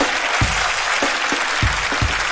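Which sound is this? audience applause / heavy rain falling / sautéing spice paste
audience applause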